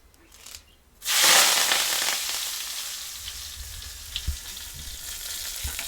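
Green chillies hit hot oil already seasoned with asafoetida and curry leaves in a village kitchen, setting off a sudden loud burst of sizzling that settles into a steady crackling hiss with a few soft clinks.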